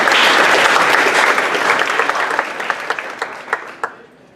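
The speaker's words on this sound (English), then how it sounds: "you can applaud now" Indoor crowd applause at a creative-industry event, dense and loud at first, then thinning into scattered individual claps that fade out.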